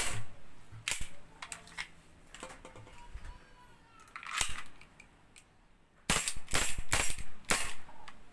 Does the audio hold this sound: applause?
no